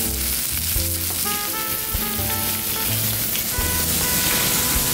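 Pork belly samgyeopsal sizzles and crackles steadily on a grill at a Korean staff dinner, a dense, continuous frying hiss with scattered pops, close and fairly loud throughout.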